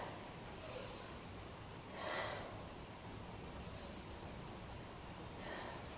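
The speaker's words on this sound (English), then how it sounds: "Let's take three breaths here." Slow, soft breathing held during a beginner yoga pose, a few faint airy inhales and exhales spaced well apart over a steady hiss.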